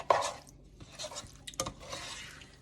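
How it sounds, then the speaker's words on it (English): Pasta salad ingredients, served with brisket, being stirred in a bowl: close, quiet scraping and sloshing strokes, several short bursts with gaps between them. "And then I just stir this all up"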